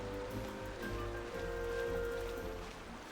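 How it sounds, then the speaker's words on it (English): A waterfall in the game Genshin Impact makes a steady, even rushing roar of falling water that holds at a constant level throughout, with a faint tonal hum beneath it. "Waterfalls."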